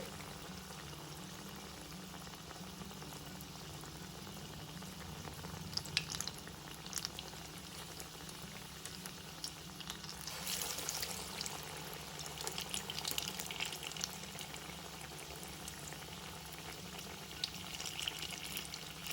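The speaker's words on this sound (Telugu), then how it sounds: "మీడియం ఫ్లేమ్లో పెట్టుకుని వేయించుకోండి, అప్పుడు చక్కగా వేగుతాయి." Moong dal vada batter deep frying in hot oil over a medium flame, a continuous bubbling sizzle that grows busier partway through, heard alone and fairly quiet.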